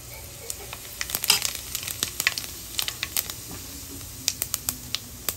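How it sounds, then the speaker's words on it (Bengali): Fennel seeds crackle and pop in hot oil, a scatter of sharp, close spits over a soft, steady sizzle, with the pops bunching and thinning irregularly. "এবার ওই ভেজে রাখা তেলের ভিতর দিয়ে দেবো 1 চামচ মৌরি"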